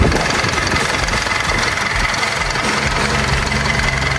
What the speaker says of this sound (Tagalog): pakinggan ninyo kung gaano kakinig, gaano kaigit ang andar ng makina